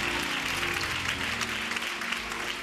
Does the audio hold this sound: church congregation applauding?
yes